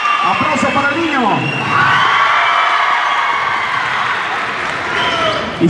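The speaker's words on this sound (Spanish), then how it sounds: "Aplauso para el niño." Spectators at a rodeo in Mesquite roar and clap for a young boy, a continuous crowd cheer with high whoops and shouting that stays loud from start to finish.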